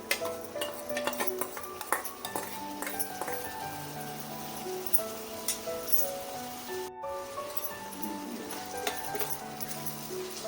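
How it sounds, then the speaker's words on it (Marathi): Field bean dal tumbles into a pan of frying onions, followed by frequent metallic scrapes and clinks of a spoon over a faint, steady sizzle. "आता त्याच्यामध्ये वालाची डाळ टाकून देते"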